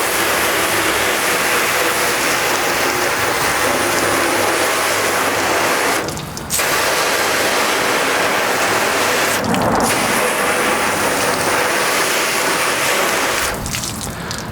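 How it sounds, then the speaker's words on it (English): A steady, loud rush of water from a hose spraying over a car coated in spray wax, continuous hiss with a few brief breaks where the stream is moved away. "All right, let's rinse off this."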